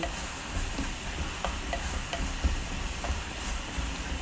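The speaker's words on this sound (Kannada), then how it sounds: "ಸ್ವಲ್ಪ ಕೋರಿಯಂಡರ್ ಪೌಡ್ರು ಹಾಕಿದೆ ಮಿಕ್ಸ್ ಮಾಡ್ತಾ ಇದ್ದೀನಿ" Pulao masala with coriander powder is stirred in a pan during outdoor cooking by a dam. A steady frying sizzle runs under soft, irregular scraping strokes of the spoon, with no talk.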